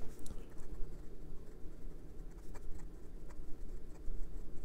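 A fine steel-nib Esterbrook SJ celluloid fountain pen writing on paper, a faint, close scratchy whisper of the nib with light irregular ticks from pen strokes.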